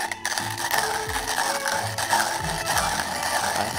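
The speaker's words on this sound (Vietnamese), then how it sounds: "khi mà bạn xay cà phê chắc chắn họ biết bạn đang xay bằng Comandante" A Comandante C40 MK4 hand grinder grinds coffee up close, a steady crunching, ratcheting churn with repeating rhythmic crank pulses and no talking.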